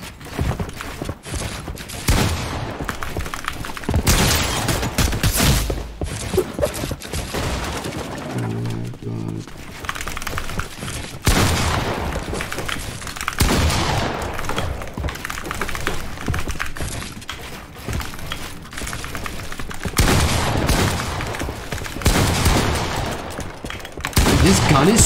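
Twin mag AR gunfire in the video game Fortnite during build fights, rapid bursts of shots repeating in loud clusters across the stretch, with a voice talking in between.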